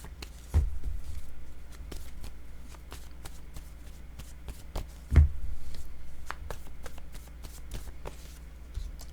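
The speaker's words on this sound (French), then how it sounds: "Je vais mélanger mes cartes." Word cards being shuffled by hand during a French card-reading session, soft papery riffles and taps spread across several seconds, close and fairly quiet, with no talking.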